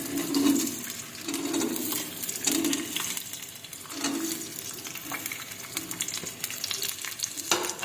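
Steady sizzling of onion and garlic frying in hot oil, with occasional stirring scrapes and clinks, close by and continuous.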